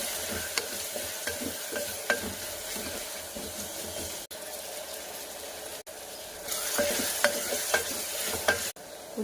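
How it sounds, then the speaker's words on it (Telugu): Sliced onions and green chillies frying in a few spoons of oil, a continuous close sizzle with spatula scrapes and stirring knocks, briefly cut off twice before the hiss swells louder. "తర్వాత ఉల్లిపాయలు పచ్చిమిర్చి వేయాలి."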